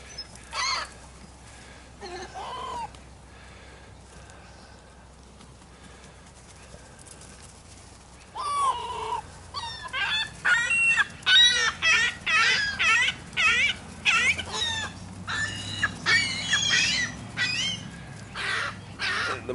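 Magpies gather at a feeding spot and give harsh, chattering calls, sparse at first and then coming in rapid, loud overlapping bursts, with faint background noise.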